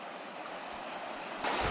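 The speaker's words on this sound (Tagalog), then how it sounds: "Malaki ang tubig, malakas ang agos." Steady rushing water fills the clip, a strong, high river current flowing close by, swelling slightly louder near the end.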